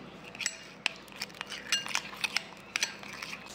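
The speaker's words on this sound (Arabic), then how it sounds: "ونخلط المكونات" A utensil clinks and scrapes against a bowl while marinade ingredients for roast chicken are stirred together, producing soft, irregular taps and light metallic clinks, fairly quiet and close, with no talking.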